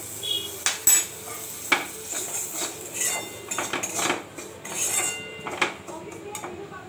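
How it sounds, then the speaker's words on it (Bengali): Semolina being stirred with butter in a metal pan, with repeated spoon scrapes and clinks against the pan at an irregular rhythm, close and moderately loud. "সুজিটা দিয়ে দিলাম, সুজিটা ভালো করে নাড়বো, একটুখানি মাখন দিয়ে দিচ্ছি।"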